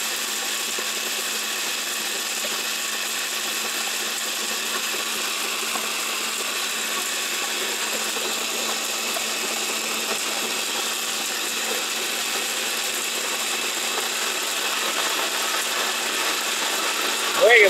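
A BMW 1400-watt blender with a copper motor runs steadily at full speed, a loud, continuous high whine and hum holding evenly throughout.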